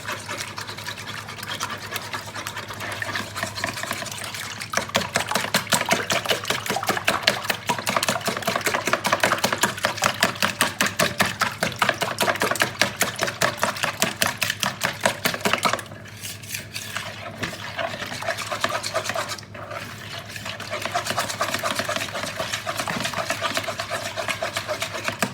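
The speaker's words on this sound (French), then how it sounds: "On mélange." A spoon or whisk scraping and knocking around a bowl as milk, salt and pepper are mixed into a savoury vegetable and cheese cake batter, a steady rhythmic clatter lasting throughout, briefly easing in the middle, without speech.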